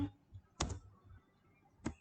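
Keys pressed on a computer keyboard while editing a document header, likely backspace strokes: two sharp, close clicks about a second apart in a quiet room.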